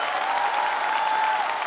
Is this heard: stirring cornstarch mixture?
no